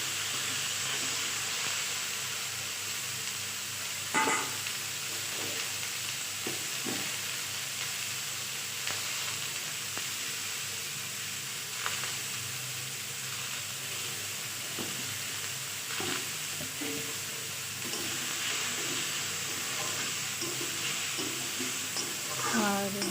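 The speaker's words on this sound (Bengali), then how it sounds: "পেঁয়াজটা ভাজা হয়েছে এখন দিয়ে দিয়েছি টমেটো আর দিয়ে দেবো এখন হলুদ" Tomatoes and onions sizzling in a pan as a fish curry is cooked, a steady frying hiss heard close up with occasional stirring clicks and scrapes throughout.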